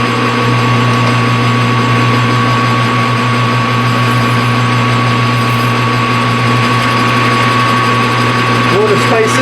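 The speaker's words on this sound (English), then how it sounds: "So here we go with the facing cut right quick." A metal lathe takes a facing cut while finishing a tire buffing stand, giving a steady, continuous motor hum with a faint machining whine that holds level throughout and is close and fairly loud.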